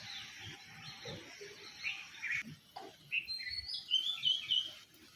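Faint, high bird chirps at dawn come in short bursts over quiet outdoor background, growing busier toward the end.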